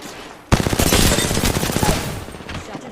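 Rapid automatic gunfire in the Apex Legends video game bursts in loud and close after a brief quiet start, a dense stream of shots running to the end.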